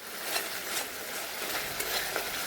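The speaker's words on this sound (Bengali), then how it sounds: "সেই টমেটো পেস্টটা দিয়ে দিচ্ছি মশলার মধ্যে" Tomato paste sizzles as it fries into a spice masala in hot oil, a dense, close crackling hiss with faint stirring scrapes over a short stretch.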